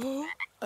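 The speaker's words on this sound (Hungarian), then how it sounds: "Íme, villám a leveli béka." A cartoon tree frog gives short croaks, three quick warbling calls in under a second, close and clear with no talk.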